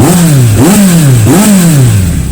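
A 2018 Kawasaki Z900 SE motorcycle engine revs in three rising-and-falling sweeps, loud and close, over a steady idle rumble.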